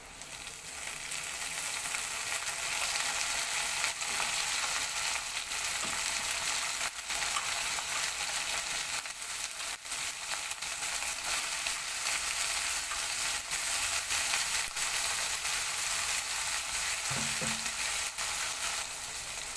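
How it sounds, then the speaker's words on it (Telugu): Sliced onions and eggplant frying in a pan for an eggplant and chana dal curry, a steady, loud, dense sizzle running throughout with a couple of faint stirring knocks. "ఉల్లిపాయలు ఇప్పుడు మగ్గాయి కదండి ఫ్రై అయ్యాయి ఇప్పుడు కట్ చేసి పెట్టుకున్న వంకాయలు వేసిద్దాం"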